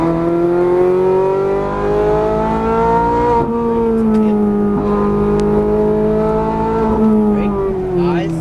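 A Ferrari 430 Scuderia engine accelerates hard on a racetrack, a loud, steady rising howl under throttle with a brief dip around a gear change, carrying through the whole run.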